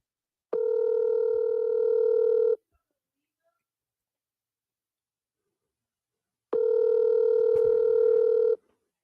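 Outgoing phone call ringback tone, two long steady electronic rings about two seconds each separated by roughly four seconds of silence, loud and clear.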